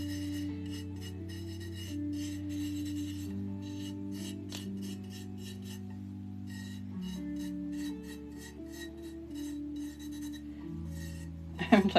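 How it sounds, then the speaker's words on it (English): Soft, steady rasping and rubbing as glitter is worked into a book by hand, with light clinks near the end over a constant low hum. "I'm like trying to collect the glitter on the cup and push it over here so I can rub it into this book."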